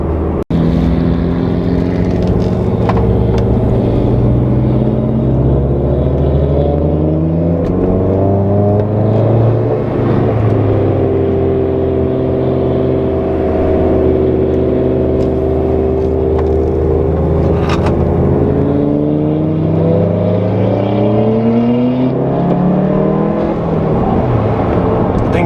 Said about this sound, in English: I can hear the turbo spool in that car right now